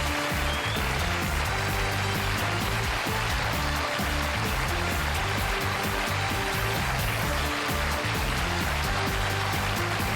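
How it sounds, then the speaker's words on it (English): An audience breaks into sustained applause, a dense, unbroken wash of clapping that holds steady for about ten seconds, with a low tonal hum running underneath. "I'm humbled by that applause."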